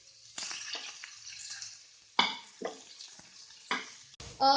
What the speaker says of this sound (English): stir fry them nicely till they are slightly golden brown